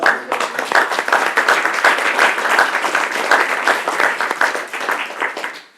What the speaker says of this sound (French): On peut à nouveau les applaudir